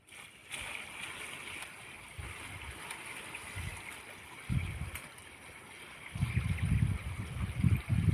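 About two buckets of water are poured over turmeric rhizomes in a pot set for boiling, giving uneven gurgling, splashing surges that grow heavier and more continuous toward the end.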